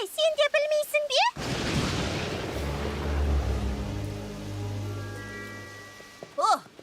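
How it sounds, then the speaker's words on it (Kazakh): Heavy rain falls in an animated cartoon scene, a broad rushing hiss that swells after a character's short burst of speech and fades beneath low tonal music, with another voice briefly at the end. "Жаңбыр күшейе түсуде, Эпплблум."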